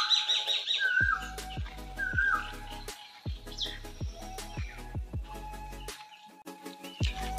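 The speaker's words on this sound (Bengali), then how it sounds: "কোকিলের আওয়াজটা শোনো তোমরা" An Asian koel calls with repeated whistled notes in a forest at Bhalkimachan, fairly faint, over loud footsteps crunching close by.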